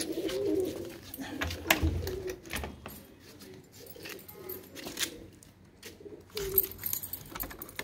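Pigeons coo in a loft of paired birds kept in coops, repeated soft throaty calls close by, mixed with rustling and faint background voices.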